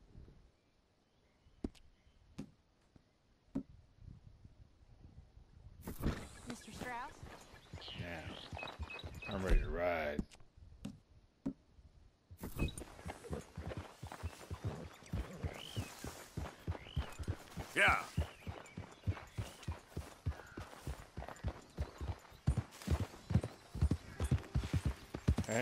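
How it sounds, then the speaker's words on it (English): Horse hooves clip-clop in Red Dead Redemption 2, starting sparse and then settling into a steady, fairly close trotting rhythm, with occasional snorts and someone talking over parts of it. "That wasn't my horse. This is my horse."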